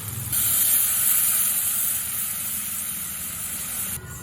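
Hot water poured onto fried masala in a pan for a bhetki fish kalia, setting off a loud, sustained close hiss of steam that starts abruptly and fades slightly near the end.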